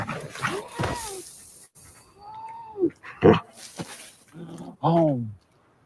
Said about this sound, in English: Bad dog! Bad dog!